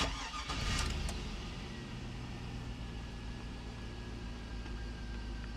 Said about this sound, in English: and then we're going to start the car.